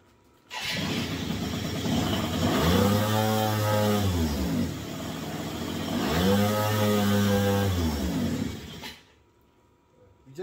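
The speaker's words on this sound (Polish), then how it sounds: "Na początku silnik się wkręca, potem spadają obroty i gaśnie." A Yamaha Aerox scooter engine cranks and catches, revs up and down twice in long swells, then cuts out abruptly, leaving near silence.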